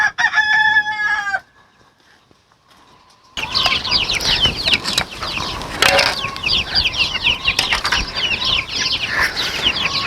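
A brooding hen on a farm raising Sussex and Leghorn chicks clucks close by, with a rooster crowing at the start, then a brief hush before dense, busy clucking and fluttering resume.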